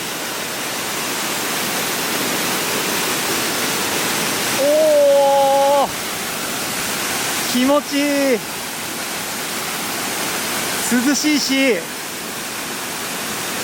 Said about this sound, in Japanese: 滝がめちゃくちゃ迫力あります。 すごい勢いで水が落ちてきてるね。